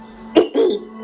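Someone clears their throat nearby in two short, rough bursts over a low steady hum.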